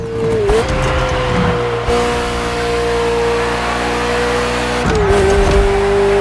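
Ferrari sports car in The Crew Motorfest, its engine holding a loud, steady high-pitched drone with a gear change partway through and another shift near the end, running continuously without talk.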